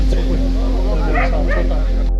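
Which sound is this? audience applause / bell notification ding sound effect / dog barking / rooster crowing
dog barking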